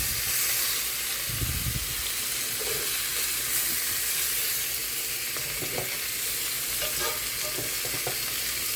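Boneless pork chops sear in a pan over medium heat, a loud continuous sizzle and crackle with a few utensil taps and no speech.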